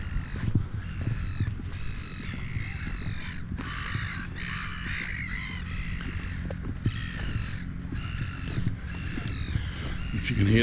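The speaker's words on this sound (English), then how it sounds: "If you can hear the seagulls" Seagulls call in harsh, repeated squawks throughout at Lee-on-the-Solent, fairly close, over a low rumbling background.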